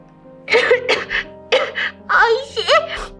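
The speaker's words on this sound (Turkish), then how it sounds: "öksürük başladı gene." A child coughs in short repeated bursts, several harsh hacks close to the microphone with brief pauses between them, a sore throat evident in the strained, raspy quality.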